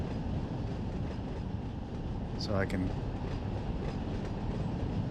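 A simulated Union Pacific freight train rumbles steadily out of the Bakersfield yard in Run 8 Train Simulator, with a brief metallic squeal midway and someone talking over the constant low roll.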